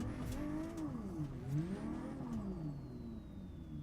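A van's engine revving and whirring while drifting in the BeamNG driving sim, the pitch sweeping up and down in waves under steady loud road and tire noise.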